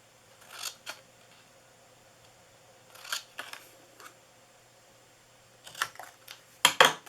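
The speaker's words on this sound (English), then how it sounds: "I'm going to just cut this." Scissors make several short snips as they cut a small paper piece for a handmade treat holder. The close, crisp cuts come in three separate clusters with quiet pauses between them.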